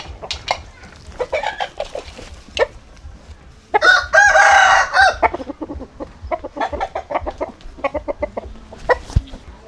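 A rooster crows loudly in a long, harsh call midway through, with chickens clucking in short bursts before and after, close by, under scattered Thai conversation.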